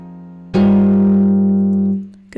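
Guitar preset of the Friktion synth in Reason 11, a single loud sustained plucked-string note that rings steadily for over a second and then fades, with no talking.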